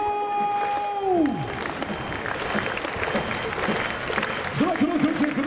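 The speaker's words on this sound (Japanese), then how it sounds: "さあ皆さんの手拍子で盛り上げていきましょう" A baseball stadium crowd at a Giants game claps along, a broad wash of hand claps and crowd noise under tonal announcer and music sounds, with rhythmic swells near the end.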